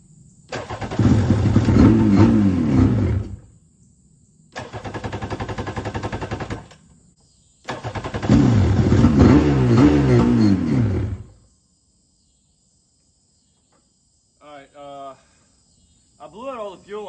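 Engine of a Yamaha WaveRunner III 650 personal watercraft after a top-end rebuild, loud and close: it roars and revs in three bursts separated by short gaps, then falls quiet except for a few brief, faint knocks near the end.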